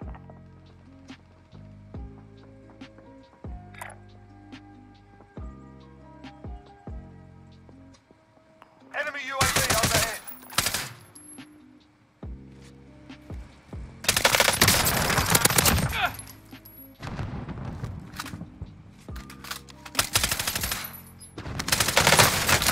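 Bullfrog submachine gun fire in a video game: rapid, loud automatic bursts come in several long strings, close up, separated by quieter stretches of in-game music and sound effects.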